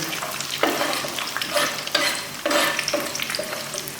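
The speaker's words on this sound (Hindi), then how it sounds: "अब इसमें हम प्याज डालने लगे हैं" Onion sliding into hot oil with mustard seeds, a steady frying sizzle with bursts of stirring and spoon scrapes recurring every second or so, close and moderately loud, no talk.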